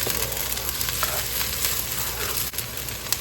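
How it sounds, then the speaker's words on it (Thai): Egg whites stir-fried in a wok for a zucchini and shrimp dish, a steady close sizzle with light stirring scrapes and no talk. "ใส่ไข่ขาวเข้าไปนะคะ ก็คนนะคะ ให้ไข่ขาวเขา เป็นก้อนนะคะ"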